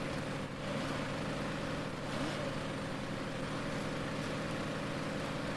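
Truck engine in the video game SnowRunner, a steady, even drone with a low rumble that holds without pause, with no clear whistle.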